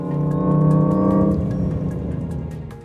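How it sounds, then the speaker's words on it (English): Artificial whooshing drive sound of a Jaguar I-Pace electric car, a smooth steady synthesized hum with layered tonal bands that swells and then fades gently, heard alone with no talk. "this artificial whooshing sound won't really get your hair on edge"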